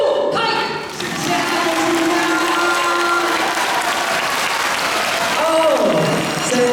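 Warm applause greets an award-winning Taiwanese singer at a hall concert, steady clapping with crowd murmur and a few sustained musical tones or feedback lines over it.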